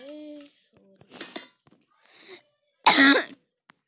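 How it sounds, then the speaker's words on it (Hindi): Several short bursts of coughing and throat clearing, close and dry, with quiet gaps between, the last cough loudest. "खांसी कुछ ज्यादा ही हो रही है ना"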